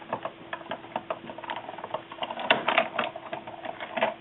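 A hand-cranked paper die-cutting and embossing machine rolls a sandwich of plates and paper heart pieces through, giving a steady run of close, quiet mechanical clicks and ticks with brief louder bursts, and no talking.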